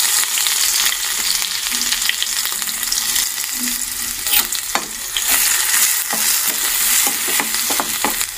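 Spices tempering in hot oil for an amaranth and tomato curry sizzle and crackle steadily, with scattered pops and a few stirring scrapes throughout, close and fairly loud with no talking.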